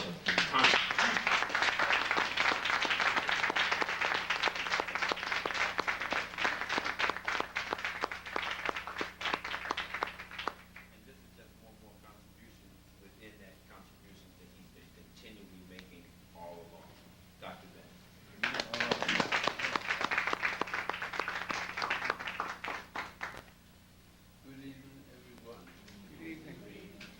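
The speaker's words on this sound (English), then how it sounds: "we need to give him a warm round of applause for the contribution" An audience at a lecture gives a warm round of applause, a dense wash of clapping for about ten seconds, then quiet with faint voices, then a second burst of clapping that fades out.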